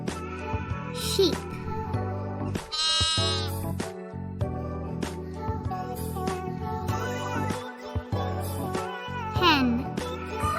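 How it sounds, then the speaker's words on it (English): Sheep bleating, a domestic farm animal, with two or three wavering bleats over a background of cheerful children's music. "Sheep."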